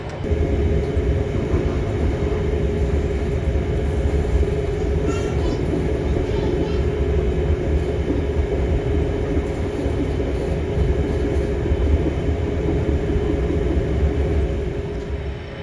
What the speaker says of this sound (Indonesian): kereta Purwajaya itu dijadwalkan melintas langsung di stasiun Jatinegara, tapi kok rupanya berhenti juga ini di Jatinegara